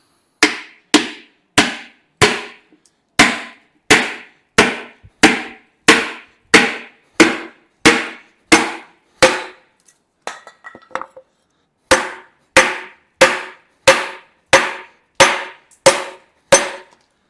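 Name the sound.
hammer striking a piece of wood to force in a motor part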